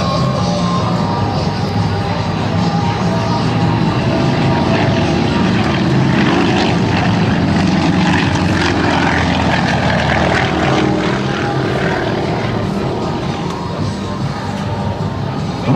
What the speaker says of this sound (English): Smoke comes on from all 3 of these Yak 52 aircraft.